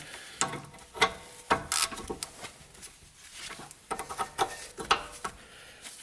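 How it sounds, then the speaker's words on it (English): A ratchet wrench with a 15 millimeter socket turning a bolt on Range Rover rear brakes, close-up irregular bursts of rapid clicking strokes with short pauses between them, no talking. "Got the ratchet on there. Got my 15 millimeter."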